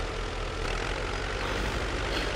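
Belarus MTZ-82 tractor engine in the SpinTires off-road game, driving through mud: a steady, dense engine roar that fills the whole short stretch without letup, loud and close, with no voices.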